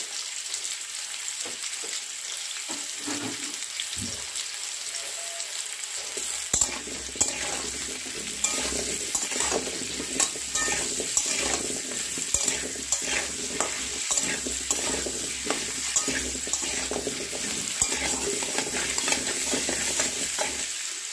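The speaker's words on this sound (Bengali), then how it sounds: "আলুটাকে আমাদের ফার্স্ট ভালোভাবে ভেজে নিতে হবে।" Potatoes frying in a pan with turmeric and salt, stirred steadily: a continuous close sizzle with repeated scraping strokes of a spoon, starting quietly and getting louder after the first few seconds.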